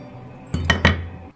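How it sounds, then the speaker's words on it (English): A kitchen knife cuts potatoes on a board for a home-cooked Chinese stir-fry, giving three sharp knocks in quick succession after a quiet stretch, close and fairly loud. "She is cutting the potatoes now."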